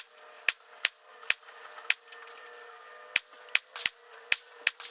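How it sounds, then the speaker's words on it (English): .22 LR pistol shots on an indoor shooting course, about ten sharp, isolated cracks fired one at a time at an uneven pace, close and distinct over a steady background hum. "We're gonna switch to 22 LR for this course of fire."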